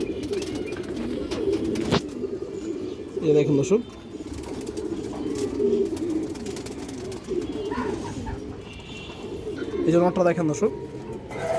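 Pigeons coo and rustle steadily in the background while someone speaks close over them throughout.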